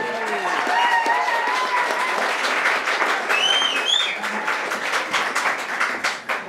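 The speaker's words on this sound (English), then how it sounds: "Start making a big round of applause for Sarah Medlow." An audience at a stand-up comedy night claps and cheers loudly for a comedian being introduced, with a dense, sustained round of applause and a few whoops on top, tapering slightly toward the end.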